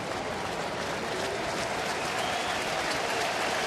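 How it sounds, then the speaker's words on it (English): A baseball crowd applauds pitcher Mike Leake, a steady wash of clapping from a large stadium audience, even and sustained throughout the short stretch. "The crowd going to give Mike Leake a nice round of applause."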